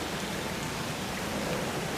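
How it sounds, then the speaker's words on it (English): Steady rain falls on a garden, a continuous even hiss of drops on leaves and soil, close and moderately loud, with no voices. "garden just enjoys the rain and the water"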